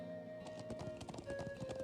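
Quick horse hoof clip-clops patter in an irregular rhythm over a faint sustained tone, brief and fairly quiet, in the video game Trails of Cold Steel.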